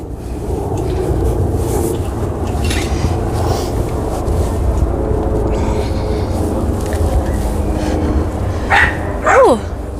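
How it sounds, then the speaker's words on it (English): Outdoors on a residential street in Astoria, New York City, an angry dog barks a few times near the end, sharp and fairly close over a steady background of street ambience. "Angry dog."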